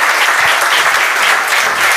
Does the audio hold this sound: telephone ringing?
no